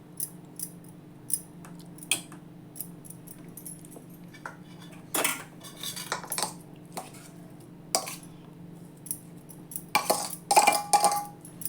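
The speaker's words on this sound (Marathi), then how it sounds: "पसरवून घेते चमच्याने" A spoon clinks and scrapes against a pan while spreading sauce over leftover idli batter, with scattered metallic taps that grow busier and louder toward the end over a low steady hum.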